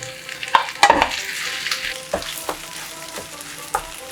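Mashed potato frying in a pan over medium-low flame for aloo chop filling, a soft steady sizzle with scraping stirring strokes and occasional sharper clacks of the spatula, close and clear with no talking.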